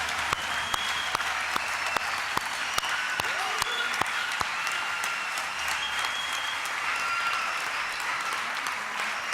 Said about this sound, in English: Let's welcome them with the biggest applause and give them the responsibility to lead us.